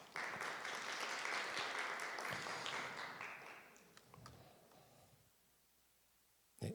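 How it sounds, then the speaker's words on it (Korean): Audience applause at a KOICA CTS Seed 0 funding information session in Korea, a full burst of clapping that fades out partway through, leaving quiet room tone and a brief thump at the end. "저희 멋진 환영사로 폼을 열어주신 팀장님께 큰 박수 부탁드리겠습니다."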